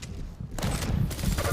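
Rapid machine gun fire in a Quake 2v2 tournament match, a dense continuous rattle that gets louder partway through, with no clear gaps.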